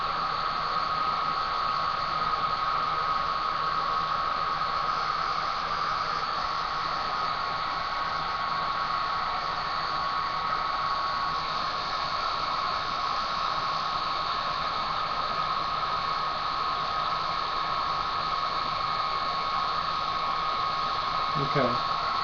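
A hair dryer runs continuously at close range, drying a man's hair in a steady, unbroken whoosh with a constant mechanical whine, ending with a brief small knock.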